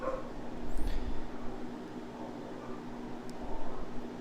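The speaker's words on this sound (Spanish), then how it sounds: "están alborotados los perros, disculpen a los perros del vecino" Dogs next door barking, heard faintly and at a distance over steady background hum, with a couple of brief yips standing out early and late.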